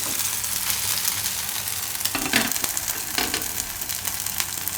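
Pava handvo, a flattened rice cake, sizzles steadily as it fries in hot oil, a loud continuous crackling hiss with a few brief scraping stirs partway through.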